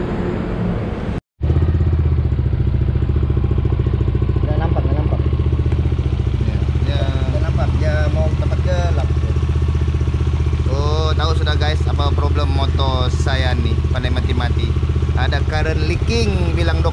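Yamaha NVX motorcycle engine running with a leaking spark plug, a steady close idle drone with mechanical clatter throughout, while people talk over it.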